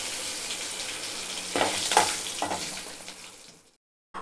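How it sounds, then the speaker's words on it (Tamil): Curry leaves and asafoetida fry in hot oil for a mint curry. A steady hiss swells into louder crackling bursts midway, then cuts off abruptly into silence. "கருவேப்பிலை சேர்த்த பிறகு பெருங்காயம் பெருங்காயம் எல்லாமே சேர்த்து நல்லா வந்து பொறிட்டோம்"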